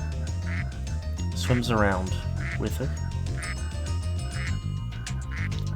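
A duck in the Spyro video game quacks a few times amid game music, while someone talks over it.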